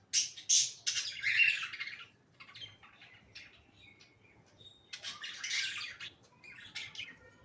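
Breeding budgies chirp and squawk in sharp, close bursts. One cluster comes at the start and another comes later, with quieter chatter and short pauses in between.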